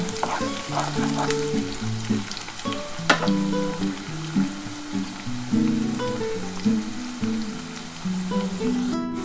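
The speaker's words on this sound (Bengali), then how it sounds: "দেখো বন্ধুরা আমার পেঁয়াজটা কিন্তু ভাজা ভাজা হয়ে এসছে" Onions fry in a pan as the base for a spicy aar fish curry. A continuous, close sizzle crackles throughout, broken by occasional stirring clicks, with a melodic tune playing faintly underneath and no speech.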